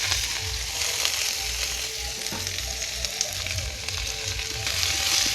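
Rice boiling in a pot, with foam bubbling up to the rim: a steady, dense hiss of bubbling and frothing, close and continuous, with no voices.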